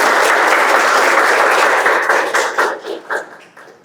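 Classroom audience applauding a classmate after a presentation, dense clapping that starts full and breaks into scattered, fading claps toward the end, with no talking.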